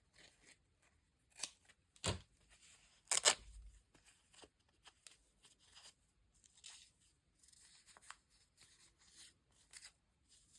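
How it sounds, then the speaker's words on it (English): Scissors cut paper for a junk journal cover: quiet, close snips and crisp slicing strokes in an irregular rhythm, with light rustling of paper between cuts and no talking. "Let's cut some of this off."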